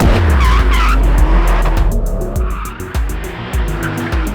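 Tires of a Porsche 911 GTS T-Hybrid skid and squeal loudly under a revving engine, with close, sustained scrubbing and short bursts of tire noise.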